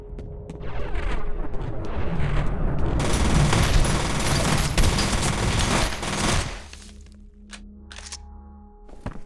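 Rapid SMG bursts fire in the shooter game F.E.A.R., loud, dense overlapping shots for several seconds, then sparser pops and sharp cracks as the firing tapers off.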